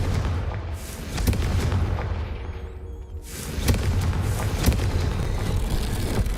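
Bombarda spell explosions in Hogwarts Legacy, heavy booming blasts with sharp cracks and rumbling debris, loud and close, with a brief quieter swell before more impacts and no voices.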